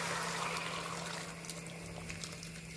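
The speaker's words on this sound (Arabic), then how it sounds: "هبدأ بقى انزل عليها بميه مغليه." Boiling water is poured into a pot over browned meat, a quiet steady splash and gurgle that gradually thins to a faint trickle and bubbling.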